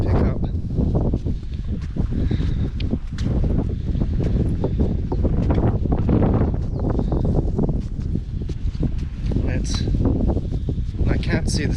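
Outdoor wind buffets the microphone in a constant heavy roar for the whole stretch, with someone talking throughout over the noise.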